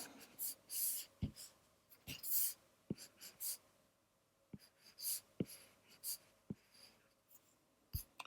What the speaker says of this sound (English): And just draw two lines.